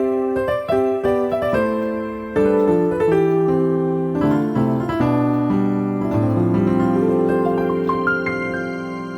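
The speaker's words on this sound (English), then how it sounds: "So the drop 2 movement sounds like this." Gospel piano moves through triads in drop 2 voicings, full sustained chords shifting step by step in a rich, resonant progression, played solo and fairly loud.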